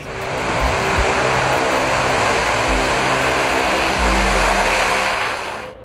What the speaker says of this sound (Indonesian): Mesin turboprop Kuznetsov NK-12 adalah salah satu mesin turboprop